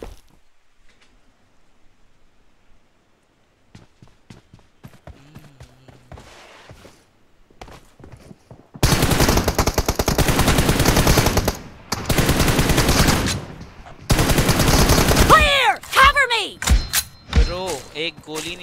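Bursts of loud rapid automatic gunfire crackle in a shooting video game, with long sustained volleys after a quiet stretch of footsteps and thuds, and excited voices talking over the action.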